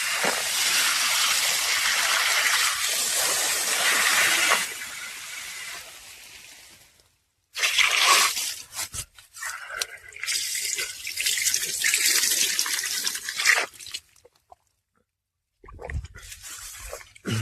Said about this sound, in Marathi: डायरेक्ट फिल्टरचं पाणी